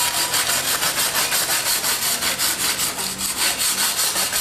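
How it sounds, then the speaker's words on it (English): A wire brush scrubs surface rust off an Allis Chalmers 310 tractor being restored, in fast, even back-and-forth strokes that rasp loudly and close up without a break, with no voices. "what I've been doing is just wire brushing. Getting the surface rust off"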